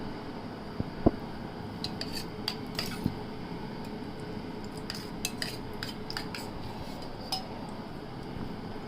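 Metal spoon clinking and scraping against a hot pan as ghee is added and stirred for carrot halwa in a home kitchen, several light sharp taps over a low steady background.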